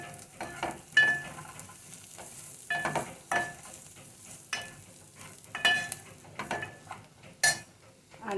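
Chopped onion frying in a pan with red chili powder stirred in, giving a soft sizzle broken by repeated scrapes and clinks of a spoon against the pan, with no voices.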